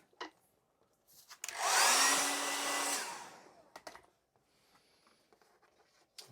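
A hair dryer blasts over a painting of autumn trees for a burst of about two seconds, a loud whirring roar that starts and stops abruptly amid quiet room noise and faint handling clicks.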